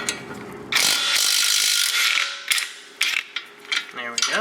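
Ratchet wrench loosening a 19mm nut and bolt holding the strut to the spindle on a 2001-2005 Honda Civic, with rapid close clicking bursts between pauses and a few sharp metallic knocks.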